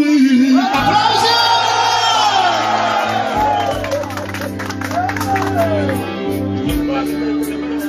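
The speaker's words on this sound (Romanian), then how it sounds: "Aplauze!" Festive crowd at a Romanian holiday performance, clapping and whooping with shouts over a steady low musical backing, busy and loud throughout.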